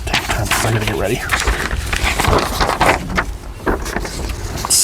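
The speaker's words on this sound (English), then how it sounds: "It's so windy." Strong gusts of wind buffet the microphone in a roaring rush during an outdoor wedding ceremony, with people talking underneath.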